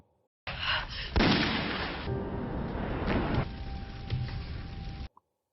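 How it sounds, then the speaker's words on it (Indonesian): Loud, dense bursts of gunfire-like blasts crackle continuously for several seconds, with a sharp burst near the start and a steady roar that cuts off abruptly. "Saat itulah Sunwo bangkit kembali dan suara tembakan terdengar."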